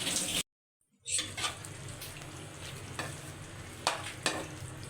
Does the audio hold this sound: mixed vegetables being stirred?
yes